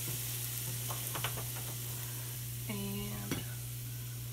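Pork carnitas meat sizzles steadily in a hot pan, a constant bright frying hiss with a few clinks of stirring and a low electrical hum underneath.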